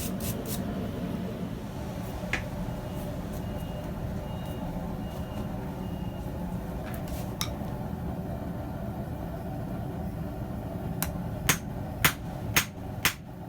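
Hammer blows on a steel tong blank resting on a stump anvil, scattered sharp strikes over a steady engine-like background rumble, ending in a quick cluster of four or five ringing hits.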